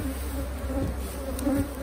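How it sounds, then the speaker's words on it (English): Dense, steady buzzing of many bees in a beehive being split, close and continuous with a constant hum throughout and no talk. "Got a lot of bees in there too."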